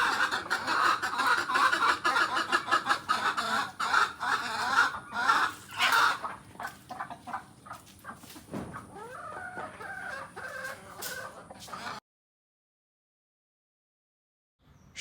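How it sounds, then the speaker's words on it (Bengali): Village chickens in Jakiganj, Sylhet, clucking and calling in the morning, with a rooster crowing among busy overlapping clucks. The calls thin out toward the end, then break into silence. "এবার শুনুন সকালে মুরগিগুলো কীভাবে ডাকাডাকি করছে"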